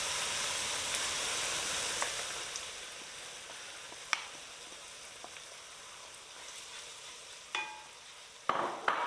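Masala spices stirred into a Durban curry paste in a pot, a soft continuous sizzle with occasional scraping knocks of the spoon, fairly quiet and without talk.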